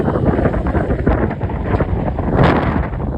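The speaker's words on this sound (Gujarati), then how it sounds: "ફોન હાથમાં નથી રહેતો એવો પવન છે" Strong windstorm in Rajkot roaring and buffeting the microphone as it drives blowing dust, a loud continuous rumbling gust with surges throughout.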